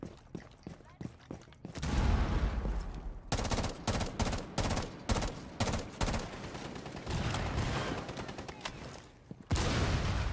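Gunfire in Rainbow Six Siege, with loud sustained bursts and rapid rattling automatic fire filling most of the clip and a few brief gaps between volleys.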